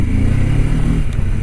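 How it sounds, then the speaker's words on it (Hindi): BMW F450GS motorcycle accelerating hard in second gear with traction control cutting in, a loud, close, rough engine roar that stays steady for a moment and then briefly dips. "सपोज जैसे मैं यहाँ चला रहा हूँ, सेकंड गियर में हूँ, मैं एक्सेलरेट कर दूंगा पूरा, ये ट्रैक्शन कंट्रोल किक इन कर रहा है"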